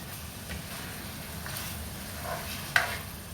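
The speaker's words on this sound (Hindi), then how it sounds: "तो इसको मैं भून रही हूँ" Mutton masala with green chilli sizzles softly as it is roasted and stirred in a pan, with gentle scraping and a sharp utensil clink near the end.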